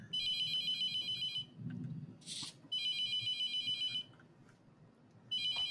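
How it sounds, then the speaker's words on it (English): Telephone ringing in The Mortuary Assistant horror video game, three bursts of loud electronic ring tones separated by short pauses over a low background hum. "Someone answer the damn phone. Are they both ringing?"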